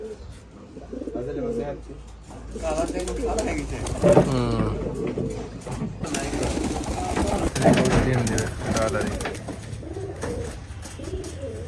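Giribaz pigeons at a pigeon farm coo softly in the background, a low continuous murmur running beneath people talking nearby throughout.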